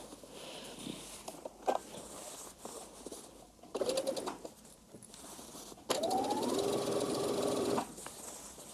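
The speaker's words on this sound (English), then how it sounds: "I'm gonna understitch the seam allowance to the facing" A home sewing machine runs in short bursts and then one longer steady run, understitching the seam allowance to a dress facing during bodice assembly. Pigeons coo faintly in the background.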